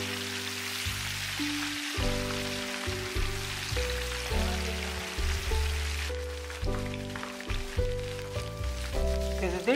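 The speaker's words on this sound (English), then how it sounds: "Now it is the time to deep fry it." Paneer cubes and cauliflower florets deep frying in hot oil give a steady crackling sizzle under a background of sustained low musical tones, fairly loud and continuous throughout.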